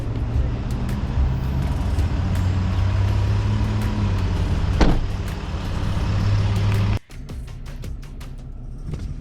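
Steady low rumble of road and tire noise inside a moving 2025 Ram 1500 Rebel pickup, a constant wash of cabin sound that drops away abruptly near the end, leaving quieter ambience with a few faint clicks.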